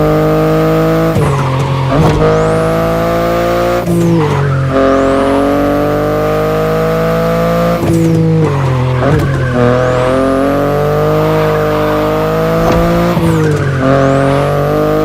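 A BMW i8 in the racing game The Crew Motorfest, its engine droning loudly and steadily with repeated rising and falling revs as gears shift, plus tire squeals, alone and up close.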